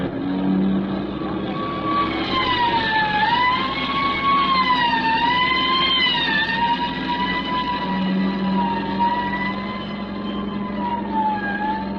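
Wailing police sirens rise and fall continuously over a low engine rumble, several overlapping, loud and close as police cars race along in a chase.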